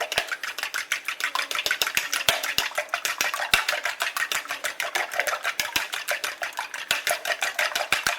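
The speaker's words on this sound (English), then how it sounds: "time to beat the eggs" Eggs beaten briskly with a whisk in a bowl, a fast, steady metallic clatter of rapid strokes that runs unbroken, close and loud.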